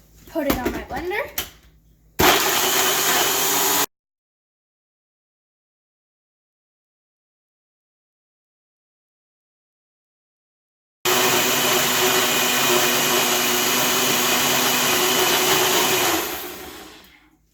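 A countertop blender whirs loudly through a berry smoothie, a steady motor roar running for several seconds in two bursts, starting and stopping abruptly.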